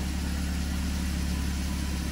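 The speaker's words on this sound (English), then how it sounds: "So the car is running." A Ford Ka engine idles with a steady, even low rumble during fuel filter service, close and continuous with no talking.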